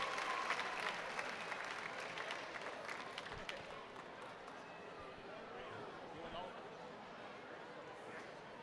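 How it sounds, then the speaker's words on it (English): A crowd claps steadily and at a distance for the horse relay teams at Canterbury Park's Indian Horse Relay, a soft, continuous outdoor applause with a faint loudspeaker voice beneath it. "Let's give all our teams a big round of applause."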